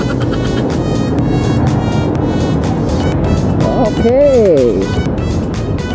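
Heavy morning traffic on a Philippine city street, continuous engine rumble and passing vehicles with a horn-like tone sweeping through near the end, while someone speaks briefly over the noise.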